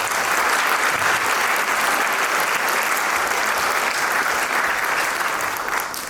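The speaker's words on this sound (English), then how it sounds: "if you'll give them a big round of applause" Sustained applause from a crowd at a school band Christmas concert, steady and loud throughout with no pauses, dense clapping filling the whole stretch.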